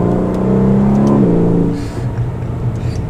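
A 2019 Aston Martin DB11 V8 powers out of a sharp turn on a twisty road. The engine gives a loud, close, rising growl, then eases off into a lower steady drone with road rumble.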